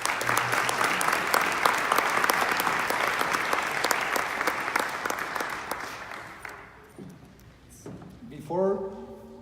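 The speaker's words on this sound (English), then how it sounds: "Let's give a round of applause to celebrate our proud culture and great traditions." Audience applause at the Fiesta de Santa Fe queen competition, dense clapping that builds and holds for several seconds, then thins out and fades before a voice speaks at the close.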